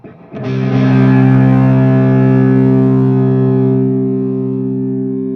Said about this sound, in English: going to give this one some distortion again.